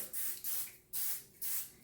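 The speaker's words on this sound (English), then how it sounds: "I'm going to spray the sides with cooking spray because I need those to be loose as well" Cooking spray misted onto the sides of a baking pan for brownies, four short, close hissing bursts separated by brief pauses.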